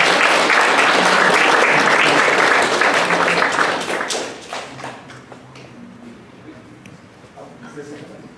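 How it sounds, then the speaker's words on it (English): Loud audience applause for several seconds, then fading out as scattered claps trail off and quiet murmuring remains. "So please, for our final panelist, round of applause for Dr. Maya Lim."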